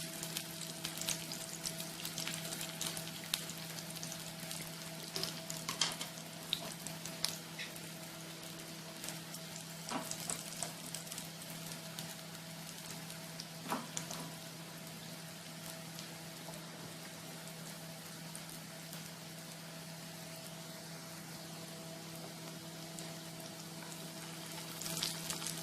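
Shami kabab patties, bound with egg, fry in hot oil as a continuous close, bubbling sizzle with scattered crackles and pops across the whole stretch, steady and unbroken with no one talking.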